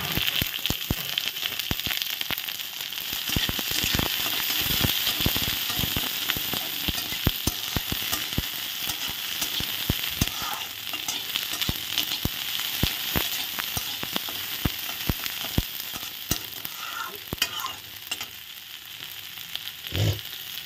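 Chopped onion and slit green chillies sizzle and crackle in hot oil with frying garlic, a steady loud hiss with frequent sharp pops and occasional stirring over about twenty seconds, no voices.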